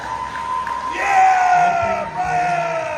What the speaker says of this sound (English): Everyone give Brian Danzig a big round of applause.